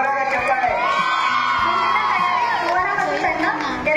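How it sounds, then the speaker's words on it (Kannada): A college crowd at a Kannada Rajyotsava celebration cheers and whoops loudly and continuously, with shouting voices layered over sustained applause noise filling the hall. "ಬನ್ನಿ, ಜೋರಾದ ಚಪ್ಪಾಳೆ."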